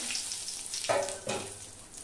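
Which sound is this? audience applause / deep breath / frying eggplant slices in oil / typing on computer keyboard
frying eggplant slices in oil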